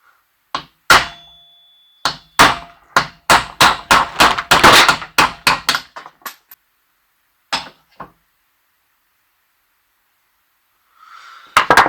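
A hammer strikes the wheel motor of a Husqvarna Automower X 415X robotic lawnmower in a rapid series of sharp metallic blows. Several isolated hits follow after a pause, then a brief rattle.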